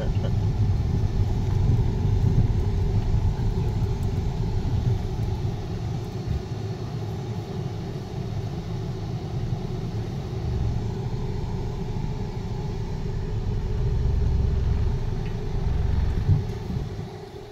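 Car engine rumbling steadily as it climbs a steep off-road slope, a continuous low drone with slight surges, with muffled talking inside the vehicle.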